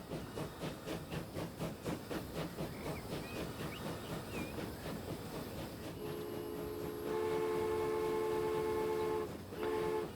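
Steam locomotive in the Transport Fever 2 video game, set in 1952: rhythmic chuffing exhaust beats with hissing steam for several seconds, then a long steady whistle blast that dips briefly and returns, loud and close with no talk.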